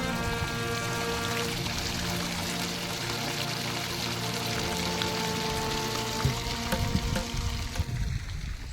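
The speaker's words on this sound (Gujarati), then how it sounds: "અહીંથી જો કેટલો મસ્ત શાંત નજારો છે, પાણીનો અવાજ આવે છે." Water runs steadily through a channel on a farm, a continuous close gurgling flow with a steady hum from a nearby pump motor underneath.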